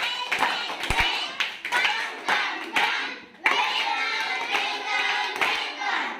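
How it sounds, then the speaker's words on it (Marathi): A welcome clap from a children's fun-learning lesson on types of claps: a group claps by hand in a steady rhythm, sharp and close, with a few voices faintly mixed in. "प्रथम आपण पाहूया वेलकम टाळी"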